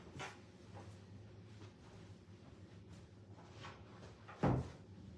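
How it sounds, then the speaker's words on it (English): A door in a house closes with one solid thud near the end, after a couple of fainter knocks earlier over a quiet room background. "I'm going to close this door."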